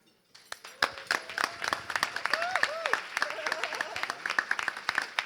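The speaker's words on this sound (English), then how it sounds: "Another round of applause for Miss Colleen Lage." Applause from a luncheon gala audience, dense clapping that starts abruptly and holds steady for several seconds, with a brief voice rising above it midway.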